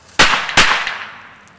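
Two sharp, loud firework bangs burst inside a bowl of Jello, about a third of a second apart, each trailing off into a fading crackle and ring.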